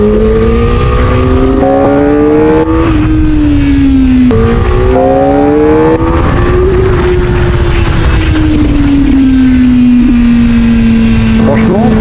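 A Kawasaki ZX-4RR motorcycle engine revs loudly and continuously while being ridden, its pitch climbing through gear changes and then holding a steady drone with wind noise, with a rider talking over it.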